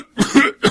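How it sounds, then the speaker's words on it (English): A man's cough in a classic horror story set in damp nitre-encrusted catacombs: three harsh, rasping bursts in quick succession, close and loud, with no other sound around them. "How long have you had that cough?"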